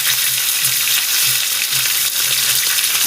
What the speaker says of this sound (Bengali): আপনারা দেখতে পাচ্ছেন মাছের মাথাটা ভাজা হচ্ছে।